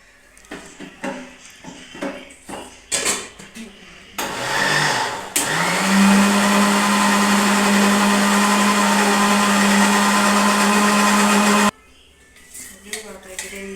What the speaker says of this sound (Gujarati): તો જો આપણે આ પાલકની ગ્રેવી કરી લઈએ હવે મિક્સરમાં